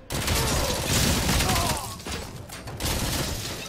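Gunfire from the video game RoboCop: Rogue City comes as dense bursts of rapid shots with heavy thuds and impacts. There is a short lull midway, then another loud burst.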